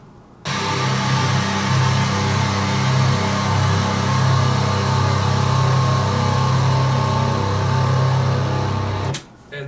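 A guitar through a Blood Overdrive plugin, heavily distorted, sustains a dense, buzzing drone for several seconds before cutting off.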